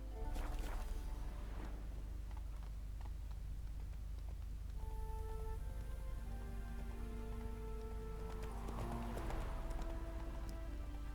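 Horse hooves clip-clopping in The Witcher 3 game as Roach trots along, steady rhythmic steps under soft rain ambience with a few tonal game sounds in the background.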